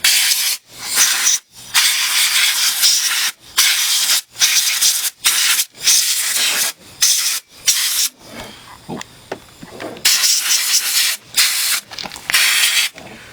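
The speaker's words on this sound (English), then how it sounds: "We need to blow the dirt out of here." Compressed air blasting dirt off the fuel rail of a 2002 Dodge Caravan engine, loud hissing bursts in repeated short spurts separated by brief gaps, close up.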